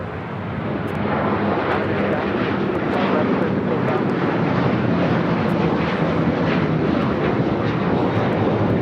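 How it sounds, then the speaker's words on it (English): An Alaska Airlines Boeing 737-900ER takes off at LAX with a loud, sustained engine roar that swells and holds, someone talking over it. "This is Alaska Airlines 1412 taking off to Liberia on the 737-900ER"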